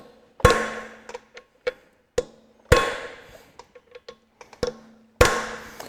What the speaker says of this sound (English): what I like to do sometimes with the impact sockets is just put it on and just go a couple of taps